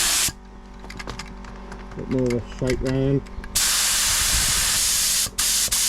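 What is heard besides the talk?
spray gun spraying air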